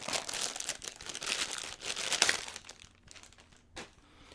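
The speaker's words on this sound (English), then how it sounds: "Time to just tear out the plastic." Plastic packaging is torn and crinkled off a Sound Devices MixPre-3 II audio recorder during unboxing, close-up bursts of crackling and ripping that thin into sparse rustles, with a brief crinkle near the end.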